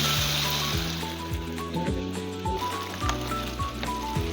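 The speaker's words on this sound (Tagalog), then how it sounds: "mag-a-add po tayo ng cooking cream" Cooking cream poured into a hot pan while chicken cooks sizzles steadily, a loud continuous frying hiss with faint clinks and a low hum underneath.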